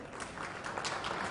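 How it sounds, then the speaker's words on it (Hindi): An audience at a government e-governance conference inauguration applauds to welcome an official to the stage: a soft, distant, continuous patter of clapping with no voices over it. "देवियों और सज्जनों, तालियों से स्वागत करें"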